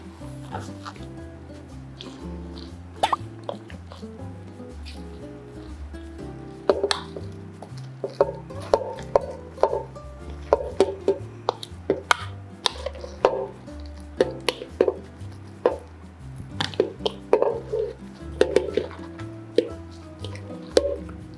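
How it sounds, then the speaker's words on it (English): A gloved hand mixes sliced cabbage for homemade kimchi, giving irregular wet squelches and soft slaps over steady background music, with no talking. "Make our hands a bit more dirty and just mix them all together."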